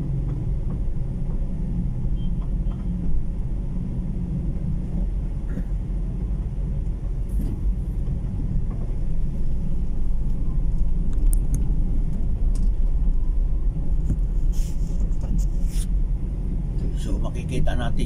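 City street traffic in Iloilo City, Philippines, with a continuous low rumble of cars and engines and occasional passing vehicle sounds, while a person talks throughout over the noise.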